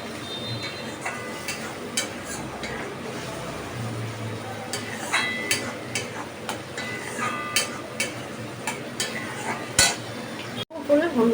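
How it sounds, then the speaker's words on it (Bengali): Spice masala with Kashmiri chili powder and turmeric is stirred and fried in a pan, with scattered clinks and scrapes of a spatula against metal over a low, steady sizzle. Close, moderate level, with no voices. "দিয়ে এবার মশলাটাকে বেশ করে আমি কষাবো"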